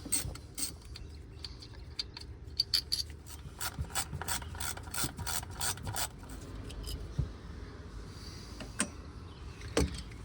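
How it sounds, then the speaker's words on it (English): A ratchet wrench removes 10mm bolts on a Toyota 4.7L V8 2UZ-FE engine during a spark plug change, giving quiet, rapid clicking bursts and faint metallic rubbing, close and without talk. "now we can go ahead and remove all of the 10mm bolts."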